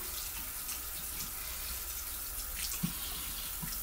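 Tap water running steadily into a sink while makeup is rinsed off, a continuous close splashing hiss with small irregular splashes.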